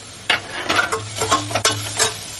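Curry leaves, cloves and chopped onions dropped into hot ginger oil in a pan, giving a run of short crackling bursts and spits over a steady low sizzle, close and moderately loud.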